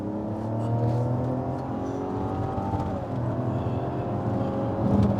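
A Mazda CX-60 with a 3.3 litre inline-six petrol engine accelerates hard, its steady, loud engine note rising in pitch from the cabin, with the revs climbing smoothly throughout and no talk over it.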